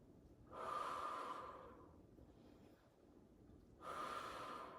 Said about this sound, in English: Maybe we just take a few deep breaths here.